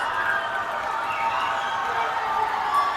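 Home crowd at a high school volleyball match cheering after a point, a broad sustained roar of many voices filling a gym, steady and moderately loud.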